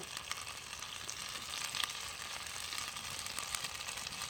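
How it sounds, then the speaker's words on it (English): Barbecue sauce and meat sizzling on a hot cast iron skillet, a quiet steady crackle and hiss with a few sharper pops, no talking. "We're going to drizzle a little of that barbecue sauce on it. Got a good sizzle going on."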